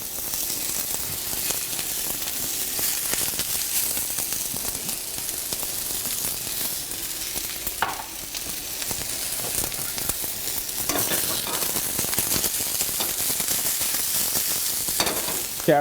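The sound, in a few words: cabbage frying in a hot curry pan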